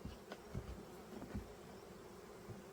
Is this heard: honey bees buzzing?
yes